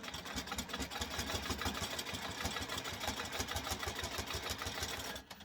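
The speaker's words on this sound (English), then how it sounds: "I've quilted several quilts on this machine, and I feel like I just got it broken in good" A quilting machine stitches a quilt at a rapid, even mechanical pulse, a close steady whir of needle strokes running without pause before cutting off at the end.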